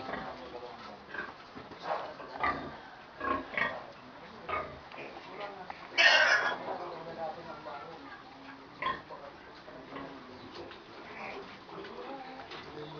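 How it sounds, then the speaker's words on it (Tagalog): Pigs grunt and oink on an organic piggery farm, scattered snorts and squeals at moderate distance, with a louder squeal burst midway and a dog-like whimper amid faint background voices. "Kukunan po uli yung mga baboy natin na organic"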